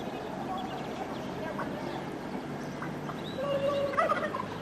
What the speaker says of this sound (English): What, turkeys?